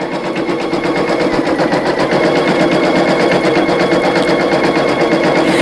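A single-needle embroidery machine stitches freestanding lace with a fast, steady mechanical rattle of needle strokes. It runs nearby and loud without a break, and no one speaks.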